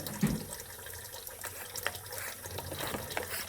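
Toy dolphins squirt water into a small home pool, giving a soft, close trickling and splashing that runs steadily with a few brief louder spurts and no voices.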